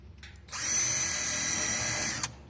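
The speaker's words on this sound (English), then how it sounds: "we're just going to pick a spot that's pretty close to the center and pre-drill our hole" A power drill pre-drills a screw hole in 2x6 lumber for a backyard Leopold bench, one close, steady whine lasting under two seconds that ends in a short thump.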